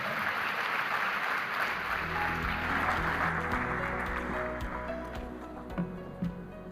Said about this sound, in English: A round of applause for my panelists as you take your seats.